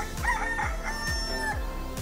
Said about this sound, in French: Les coqs de Lalittown annoncent une nouvelle journée.